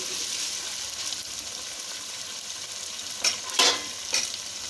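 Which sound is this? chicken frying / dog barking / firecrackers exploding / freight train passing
chicken frying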